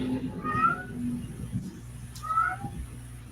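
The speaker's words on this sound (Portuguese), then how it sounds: "Tem um gatinho antifascista entre a gente aí, né, Fran?" A kitten meows twice, about two seconds apart, with short, clear, moderately loud calls over a quiet room background.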